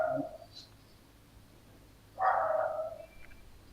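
A dog barks twice in the distance, a short yip and then a longer bark about two seconds later, faint over a quiet room hum with no talking.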